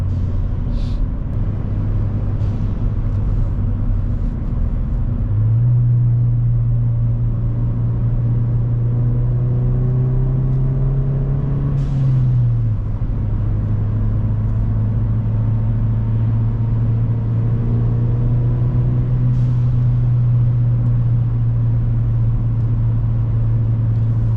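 A 2017 Ford Fiesta ST with a loud blow-off valve drives along, its engine a steady close drone that climbs in pitch, drops off mid-clip with brief hissing bursts, then settles back into a constant hum.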